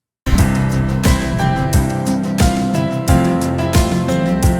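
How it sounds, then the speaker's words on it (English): A full song mix with drums, bass and melodic parts playing steadily, a ride cymbal brightened with crisp high-end shine riding on top and cutting through the mix. "And suddenly that ride cymbal is really poking through nicely."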